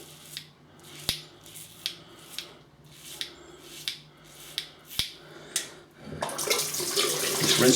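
A Focus R48 is rinsed under a running tap, with a series of evenly spaced sharp clicks or snips before the water rush swells loudly at the end, close and with no voices.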